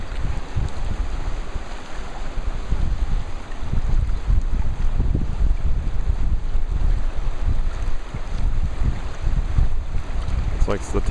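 Post-tsunami Pacific waves surge and slosh against a rocky shore on Hawaii's Big Island, heavy churning water pulsing in uneven bursts under strong gusting wind noise on the microphone.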